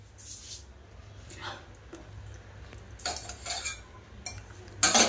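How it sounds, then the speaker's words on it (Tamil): Spoon scraping and clinking against a pot while Maggi noodles are stirred, a few short metallic bursts spread over a low steady hum, fairly close, with no talking. "மேகி கிண்டிடுவோம்."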